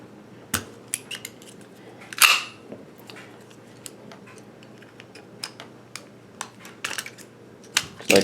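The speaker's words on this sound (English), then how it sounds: "You're just going to punch these through here." A Glock 20 Glock tool used as a punch knocks the trigger assembly pins out of a Ruger 10/22 takedown rifle, giving sharp scattered metallic clicks and taps close up, with no talking.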